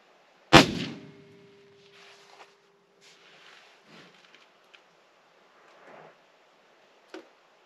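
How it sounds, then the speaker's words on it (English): A single sharp, loud unsuppressed .308 rifle shot cracks nearby and rings briefly, followed by faint handling clicks and small knocks during a suppressor comparison on an AR-15. "And now we will do our 308 unsuppressed."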